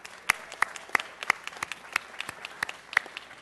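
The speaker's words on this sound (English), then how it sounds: "let's give Ron a round of applause" A round of applause for Ron at a city council meeting, sparse and light, a small room of scattered individual claps rather than a dense roar, steady for a few seconds with no voices over it.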